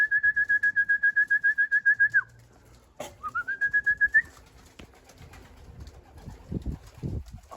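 A homing pigeon gives a rapid run of repeated whistling coos, pauses, then calls again, with a sharp flutter of wings and soft rustling and thumps afterward, all close and without talk.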